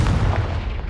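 A Confringo spell blast in Hogwarts Legacy, a short loud booming burst with a rumbling low tail.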